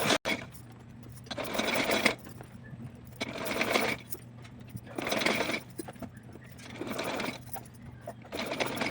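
A sewing machine stitches a small dress for a Laddu Gopal idol in four distinct bursts of rapid whirring, each lasting about a second, separated by quiet pauses.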